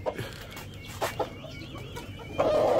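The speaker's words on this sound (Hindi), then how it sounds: "इस मुर्गे के साथ ना एक मुर्गी और लेके आएंगे" A rooster gives a few short, close clucks in quick bursts against quiet farmyard background noise, followed by a brief rush of louder noise at the end.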